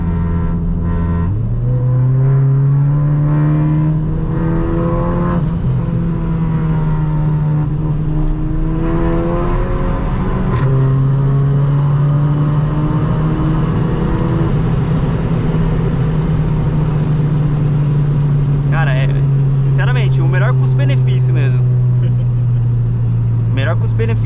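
An Audi revs hard on a test drive, its engine pitch climbing in long sweeping pulls, dropping and rising again, loud and close inside the cabin while people talk over it.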